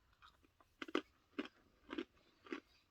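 Close, crisp bites and crunchy chewing of a small Marks and Spencer gingerbread man biscuit, about five distinct crunches spaced roughly half a second apart, with no talking.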